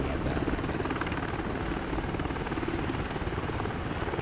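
A helicopter in Microsoft Flight Simulator 2024 comes in to land at a helipad near Reykjavik, giving a loud, steady rotor-and-engine drone that fills the whole stretch without any talking.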